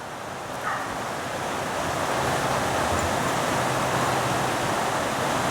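River flowing as a broad, steady rush of water, swelling slightly louder after the first second, with some wind noise on the microphone and no voices.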